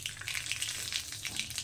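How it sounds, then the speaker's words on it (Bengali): Mustard seeds frying in hot white mustard oil, a soft, close crackle of small pops and sizzles, fairly faint and continuous. "তো সর্ষেটা একটু ভালো করে ভাজা হয়ে যায়।"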